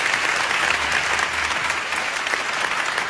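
Audience applause after a Quran recitation by two teenage reciters, a dense, even burst of clapping that fills the whole moment at close range, loud and steady without speech.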